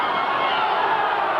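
Crowd noise rises from the stands at a 1999 boys high school basketball game against Abington, a loud sustained roar of voices reacting to a reach-in foul call, steady and dense throughout.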